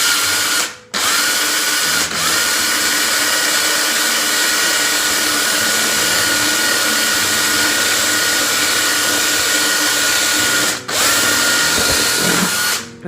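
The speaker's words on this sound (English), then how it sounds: "And then you're going to take your drill, your heavy-duty drill here" A heavy-duty power drill bores straight down through a book, a loud, steady high whine that runs almost the whole time, cutting out briefly near the start and again near the end.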